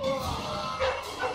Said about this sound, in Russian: Собака.